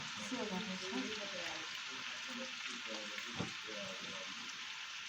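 Döner meat frying and being stirred in fat over medium heat, giving a steady broadband sizzle with a stir-scrape knock near the end, while someone talks over it close by.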